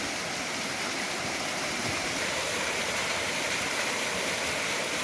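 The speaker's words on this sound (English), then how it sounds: "This is lower little Mashel River Falls." Lower Little Mashel River Falls near Eatonville, Washington, a steady, full roar of falling water, broadband and constant throughout with no voices.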